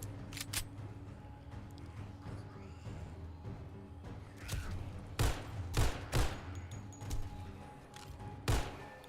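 Loud, sharp gunshots from a weapon in a video game fire singly at uneven intervals over a low, steady background drone, with no talk.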